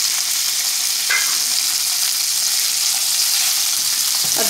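Pieces of chicken fry in hot oil in a pan, giving a steady, close, loud sizzle with a few faint scrapes of stirring and no voices.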